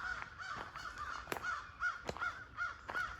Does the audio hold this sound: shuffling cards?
no